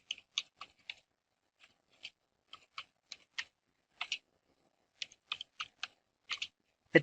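Keys clack on a computer keyboard as a username is entered during a PostgreSQL setup on Debian 11.3: short crisp taps in quick bursts with brief pauses, close and clear in an otherwise silent room.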